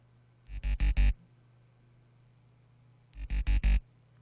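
Synth bass from a cyberpunk-style soundtrack, played dry without saturation: two short bursts of four quick, evenly spaced punchy notes each, separated by a pause, alone with no talk.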